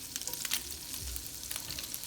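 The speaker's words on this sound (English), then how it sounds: "hear that sizzle already?" Spam frying in a 5-quart Le Creuset braiser over medium heat, a soft steady sizzle with light crackles and occasional spatters, fairly quiet and with no talking.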